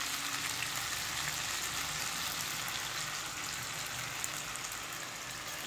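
Beaten eggs go into a pan of chicken pasta, which holds a faint, even, continuous sizzle like light rain, with no talking.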